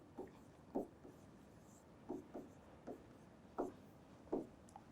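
A pen writing an answer by hand on paper, with faint, close scratchy strokes in short bursts separated by quiet pauses.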